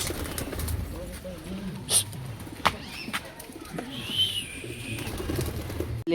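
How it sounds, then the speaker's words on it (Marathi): Pigeons being released to fly give soft cooing calls and a few brief wing flutters, close by, while people talk over them. "आता कबूतर सोडूया आपण, आणि कबुतराला उडवायचं पण आहे"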